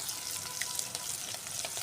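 Fish pieces frying in hot oil in a pan give a soft, steady sizzle with small crackles, heard close and faint with no voices over it.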